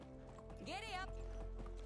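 Horse hooves clop lightly in the medieval survival game Medieval Dynasty, a few soft strikes under a whinny and game music, with a voice talking quietly over it.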